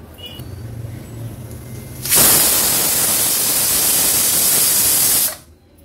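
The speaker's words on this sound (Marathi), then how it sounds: "तीन शिट्ट्या काढून घ्यायच्या आहेत।" Pressure cooker whistle releasing steam while chicken cooks, a loud, harsh, sustained hiss that bursts on abruptly, holds steady for about three seconds and then cuts off, with quiet kitchen background before and after.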